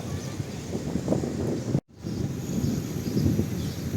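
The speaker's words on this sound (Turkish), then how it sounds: "Bu tarafta da rüzgar var." Steady blustery wind buffeting the microphone with low rumbling gusts, briefly cut off by a short gap before continuing.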